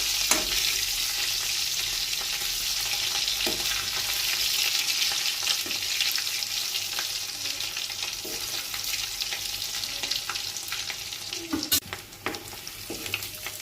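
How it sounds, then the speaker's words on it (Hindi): Potatoes lightly frying in a pan give a continuous, close sizzle with crackling spits and occasional sharp clicks of stirring, steady throughout with no talking. "आलू को भी हल्का फ्राई कर लेंगे"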